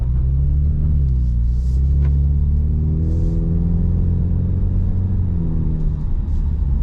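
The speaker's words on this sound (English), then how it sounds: "You can definitely hear the exhaust back there." A 2024 Ford Mustang EcoBoost on the road: a steady, loud four-cylinder engine drone and exhaust rumble from inside the cabin, climbing and falling smoothly with light throttle changes, no talk over it.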